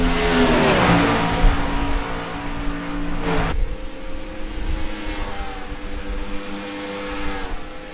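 A race car engine on a track during a racing broadcast, held at a high, steady drone that drops sharply in pitch partway through as the car passes, then settles into a fainter, sustained roar.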